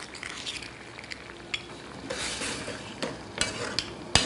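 Sugar and corn syrup reduce in a pan, with soft bubbling and sizzle alongside occasional stirring clicks and a sharp utensil tap near the end.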